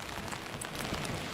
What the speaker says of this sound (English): you mentioned that steady rain, and that's what's going on here